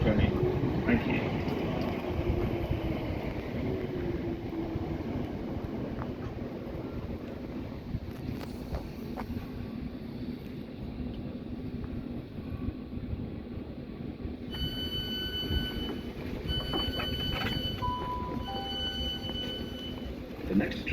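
A train idles and rolls at Surbiton railway station platform with a low rumble and wind noise, faint clicks, and a tonal chime near the end.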